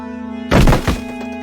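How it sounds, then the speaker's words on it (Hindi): The heavy wooden door of an old mansion swings shut on its own with a loud, deep thunk and a short second knock, over a steady low hum. "दरवाजा अपने आप बंद हो गया।"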